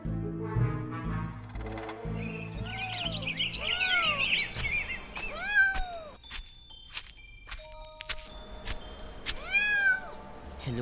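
Several cats meow repeatedly, their rising and falling cries near and fairly loud, mixed with bright chirps and dings and intermittent rhythmic background music.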